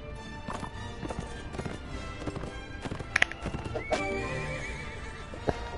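A horse in the video game Mount & Blade: Warband clip-clops in uneven hoof steps and gives sharp whinnies, over a steady game background.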